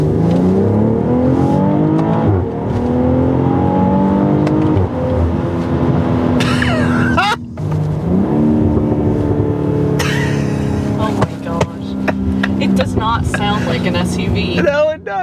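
A 2021 BMW X3 M40i drives hard with its sport exhaust open: the engine climbs through the gears in rising tones, dropping at each shift, with sharp exhaust crackles between pulls. People talk over it.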